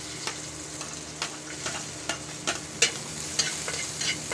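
Garlic sizzling in hot oil for pork rib adobo, a steady close crackle broken by regular sharp scrapes and clacks of a utensil stirring in the pan, with no talking.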